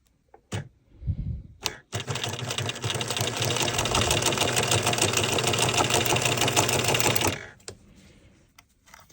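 A sewing machine fitted with a heavy denim needle runs steadily for about five seconds, stitching through clasped weft fabric, loud and close, with a few clicks and handling noises before and after.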